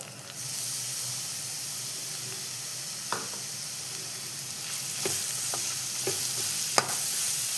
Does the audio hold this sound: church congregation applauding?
no